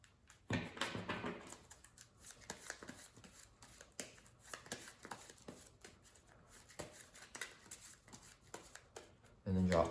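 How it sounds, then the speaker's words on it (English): Cards being shuffled in quick crisp bursts, close by, with a louder riffle near the end; a voice murmurs faintly in the background. "And then let's shuffle up the player deck here."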